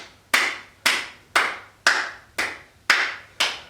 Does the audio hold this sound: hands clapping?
yes